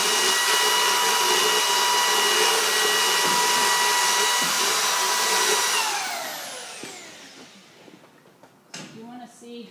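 A dental power tool grinds an animal's teeth with a loud, steady high-pitched whine for about six seconds, then spins down and fades, leaving faint clicks and handling noises.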